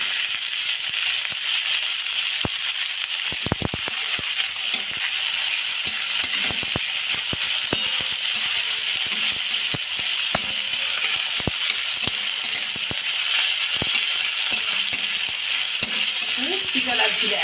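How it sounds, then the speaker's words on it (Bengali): Chopped onion and tomato frying in hot oil in a wok, a dense continuous sizzle with sharp clicks of a spatula scraping and stirring, close and fairly loud, with no voices. "পেঁয়াজ কুচি দিল, পেঁয়াজটা লাল লাল করে ভাজা ভাজা। টমেটো দিল, এবার দিয়ে দিল টমেটো"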